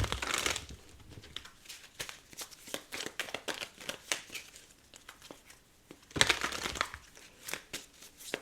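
A deck of tarot cards is shuffled by hand in a quiet room, giving soft, irregular riffles and papery flicks with two louder bursts of rapid shuffling.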